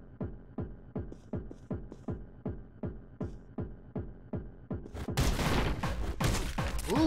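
Rapid automatic Uzi fire from the video game Anger Foot: a steady train of about fifteen evenly spaced shots, then a loud dense burst of chaotic gunfire and impacts to finish.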